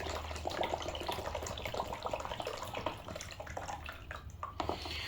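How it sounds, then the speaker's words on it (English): Water poured into a model flood-resilient house built of plastic bricks, a continuous splashing trickle with irregular drips, fairly faint and heard alone. "Now let me show you by pouring some water in here."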